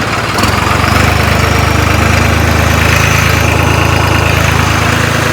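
A John Deere or New Holland 3630 farm tractor engine runs loud and close, a steady throbbing diesel roar that picks up slightly after a brief lower start and holds evenly.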